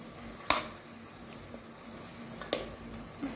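Chicken added to a hot frying pan produces a faint, steady sizzle, punctuated by two sharp clicks or clatters a couple of seconds apart.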